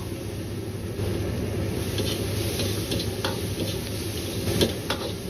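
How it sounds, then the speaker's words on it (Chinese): Green beans stir-fried in a wok with ginger, garlic and chili sauce, a dense steady sizzle under a low hum, with light ticking clicks of a spatula scattered through it, close and voiceless. "接着放入控干水分的豆角翻炒"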